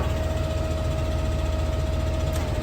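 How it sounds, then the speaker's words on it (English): A tractor engine, nicknamed Black Beauty, labours under load while driving a log splitter on a big log, a steady loud low rumble with a constant drone and no voices. "Put this big one on and see if it makes the tractor grunt."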